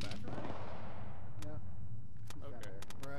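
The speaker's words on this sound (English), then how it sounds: "Bomb, I hope that was a bomb." A bomb explodes in the military game Arma, heard as a heavy, sustained rumbling blast. Sharp, distant gunshot cracks punctuate the rumble.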